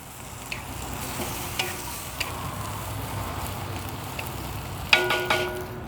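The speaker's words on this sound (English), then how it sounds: "Stir that around a bit." Vegetable stir fry with broccoli, garlic, noodles and a sugar, oyster and soy sauce being stirred on a Weber grill: soft steady sizzle with occasional light clicks of the utensil, ending in a brief louder clatter.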